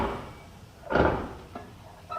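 Worn door roller pin on a 1994 Chevy Suburban makes a single loud clunk of the door near the middle, followed by a couple of fainter knocks afterward.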